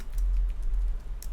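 Light typing on a computer keyboard during work in Photoshop, a few soft, quick clicks in an uneven cluster, fairly close and quiet, with no voices.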